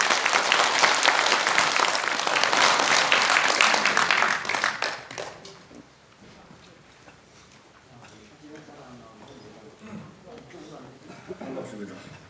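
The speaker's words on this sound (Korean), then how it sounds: "힘찬 박수 부탁드리겠습니다." Audience applause opening a seminar and debate at the National Assembly building in Seoul, a dense burst of clapping for about five seconds that then stops, followed by quiet room sound and faint speech.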